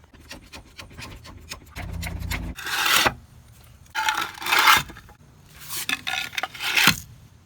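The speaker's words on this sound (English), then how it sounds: "Now let's jack her up." Scraping and ratcheting from jacking up a Mazda Miata: irregular rasping strokes with bursts of louder grinding, close and moderately quiet, no talking.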